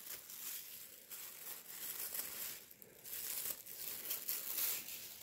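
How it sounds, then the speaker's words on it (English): Soft plastic crinkles and rustles close up, with scissors snipping through thin plastic in short bursts; the sound is quiet throughout. "I'm just going to cut the handles off this plastic bag"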